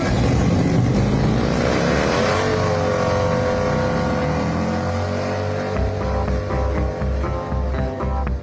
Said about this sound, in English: Pulling the old hard body back into the shop.